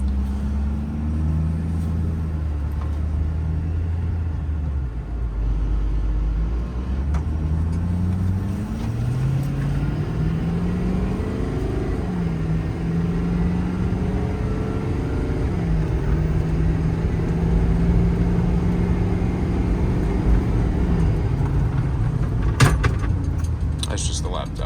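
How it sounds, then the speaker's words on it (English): Diesel engine drone of a 2011 Ford F-550 4WD crane truck with a 6.7 diesel, driving on a road, its pitch climbing and dropping through gear changes. Cab rattles and a jingle of keys sit under the engine. "Truck actually drives great."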